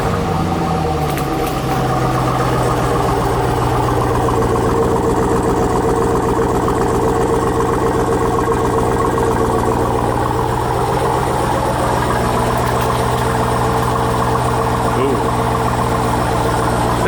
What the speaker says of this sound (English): I just wanted to get a little cold start up on this thing.